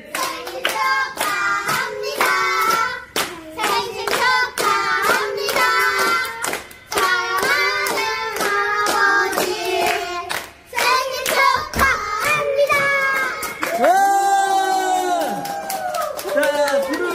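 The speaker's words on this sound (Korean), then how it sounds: "박수!" Family members clapping for a grandfather's surprise birthday, rhythmic hand claps mixed with singing and cheering voices close by, swelling into a burst of applause near the end.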